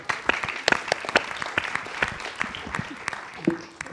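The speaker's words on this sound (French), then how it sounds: "on peut les applaudir une nouvelle fois pour ce super panel" Audience applause for a panel on women's entrepreneurship in Africa at a conference, scattered claps rising into a brief round, with a voice speaking over part of it.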